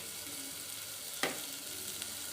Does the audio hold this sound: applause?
no